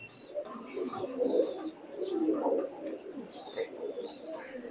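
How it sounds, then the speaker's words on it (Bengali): Imported bloodline high-flying pigeon cooing in soft, repeated low rolling calls close by, with thin chirpy bird sounds layered above across the whole stretch. "আচ্ছা, কবুতরটা ছেড়ে দেখান।"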